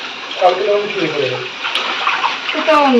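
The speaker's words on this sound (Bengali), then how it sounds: "তার আগে আমি বাসন কটা মেজে নিই" Dishes are scrubbed under a running tap in a home kitchen, the water streaming steadily close by with clinks and splashes, while a voice can be heard over it.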